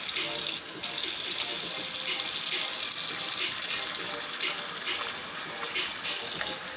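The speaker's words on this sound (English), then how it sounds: "So usually what I do, I wash my shrimps first with lime." Water runs steadily from a tap as shrimp are washed with lime in a kitchen sink, a constant close splashing rush that lasts throughout with no pauses.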